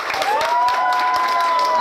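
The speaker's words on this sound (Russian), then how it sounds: "давайте громче учиться аплодировать и поддерживать наших девочек" Audience clapping on the aft deck of the Russian river cruise ship N. Gogol, a steady close ripple of applause with cheering tones and a sustained whistle-like tone running through it.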